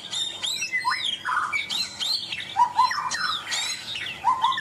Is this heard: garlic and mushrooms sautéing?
no